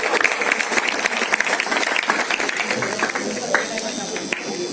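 A crowd claps steadily, many hands beating in a fast patter that eases off slightly toward the end.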